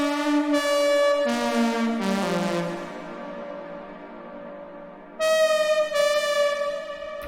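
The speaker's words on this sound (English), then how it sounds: "The lead is created in Serum, and it sounds like this." Serum synth lead built from a single sawtooth oscillator, playing bright sustained notes in a short phrase with a pause in the middle, clear and upfront with no voices.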